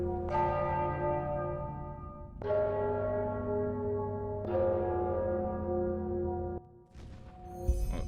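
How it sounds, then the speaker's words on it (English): Church bells ringing in the game Enderal, three slow, loud, resonant strikes each ringing out and decaying, followed by a brief different clang. "I'm sure the bells have something to do with the riddle."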